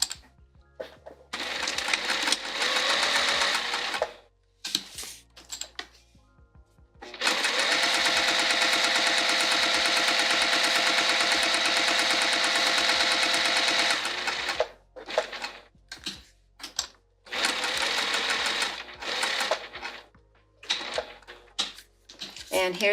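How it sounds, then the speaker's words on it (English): A sewing machine topstitches a bag, running close and loud in several long bursts. A steady mechanical whir is broken by brief pauses and stop-start clicks between seams. "we'll top stitch this, and we'll sew around the open edges"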